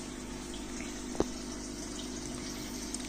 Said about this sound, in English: So now you see the filter still running and the water is crystal clear